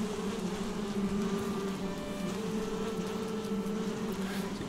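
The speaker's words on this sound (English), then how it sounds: "Bees are happy." Bees in the Valheim video game give a steady, droning buzz that holds unchanged throughout, close and even in level.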